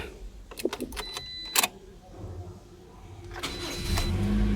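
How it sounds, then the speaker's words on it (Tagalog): A Toyota Corolla with weak acceleration starts up after a few light clicks and rattles, its engine catching and settling into a steady, moderately loud idle hum. "Start engine ka muna."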